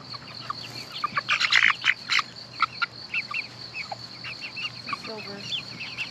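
Free-range backyard chickens cluck and chirp in short repeated bursts close by outdoors, with a steady low hum underneath and quiet voices talking at times.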